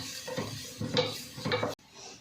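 Shallots, ginger and garlic being sautéed in a pan, heard as a few short bursts of utensil scraping and clinking against the pan with a faint sizzle underneath, then a sudden cut to quieter background.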